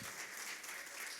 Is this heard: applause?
yes